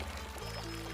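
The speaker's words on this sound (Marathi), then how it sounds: "आपण तेच पाणी या कलशांमध्ये भरून नेऊया." Well water is poured into ritual pots, a short, quiet splashing pour that shifts in tone partway through as the vessel fills, heard alone.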